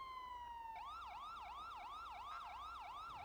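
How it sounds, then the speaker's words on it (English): A police car siren in the GTA V NoPixel roleplay game starts as a steady falling tone, then switches to a fast repeating wail that cycles evenly and loudly, with no talking over it. "Turn the sirens on."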